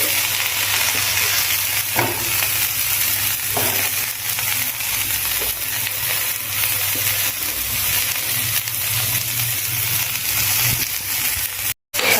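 Fried onions and fresh coriander stirred in a pan for methi zunka give a steady, close sizzle, with soft scraping strokes of the spoon every second or two.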